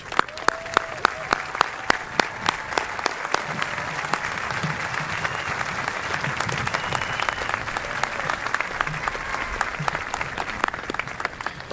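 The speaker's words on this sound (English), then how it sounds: "please stand and allow us to show our appreciation with a well-deserved round of applause." Graduation crowd at a Redondo Union High School ceremony, standing in the stands and on the field, breaks into applause: a few sharp early claps swell into steady, dense clapping from a large audience, with faint voices underneath.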